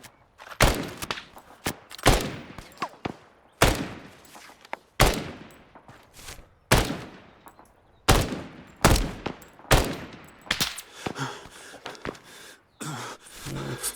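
Heavy gunfire in the military shooter game Arma 3: a long run of loud, spaced single shots with booming echoes, growing quicker and denser toward the end.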